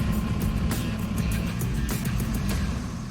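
A smaller mobile crane drives over to a lifting site, its engine giving a steady, loud low rumble with faint road noise and no speech throughout.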